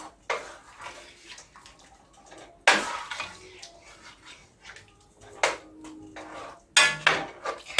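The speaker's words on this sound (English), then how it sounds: "We're going to stir this up so it all incorporates." A spoon stirs carnitas ingredients with bay leaves in a metal pot, giving irregular scrapes, wet sloshes and a few sharp clanks against the rim, fairly close and intermittent with quiet gaps between.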